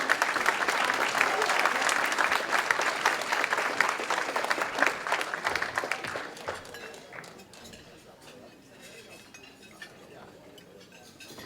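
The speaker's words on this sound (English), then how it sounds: "Round of applause for Joel and his team." Audience at a chamber of commerce awards dinner breaking into loud, dense applause that fills the room for several seconds, then thins out to scattered claps and faint clinking of dishes and cutlery, with a voice talking near the end.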